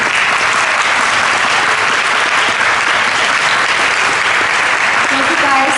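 A round of applause from an audience thanking a panel at an evening gun violence prevention event: continuous, loud, dense clapping filling the room, with a few voices faintly mixed in.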